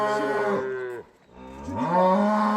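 A cow moos twice, loud and close, each a long low bellow with a brief pause between them.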